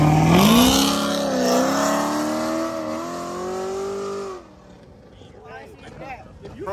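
A loud car engine fitted with a ProCharger supercharger revs high and holds with a whining rise, then drops off, leaving a quieter background with distant voices at a car event.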